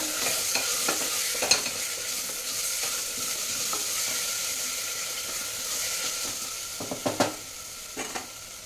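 Ginger garlic paste being stirred in a frying pan, with a soft continuous sizzle and scattered scraping clicks of a spoon against the pan, growing sharper near the end.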